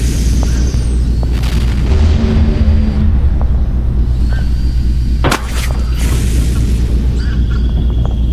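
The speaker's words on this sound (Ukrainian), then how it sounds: "Бачите, тільки промінь навели, і воно вже бабахає." A deep, heavy rumble of explosions booms continuously, with a sharp crack midway through the loud, dense roar.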